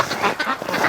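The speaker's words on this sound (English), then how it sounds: "But just look at these crazy little duckies." Ducks quack in a quick noisy cluster, close and loud, over less than a second.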